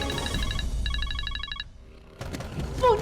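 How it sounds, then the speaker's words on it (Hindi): A telephone rings in electronic warbling bursts, two trilling rings separated by a short gap, followed by a quieter stretch with clicks and faint background sound. "फोन उठा लो।"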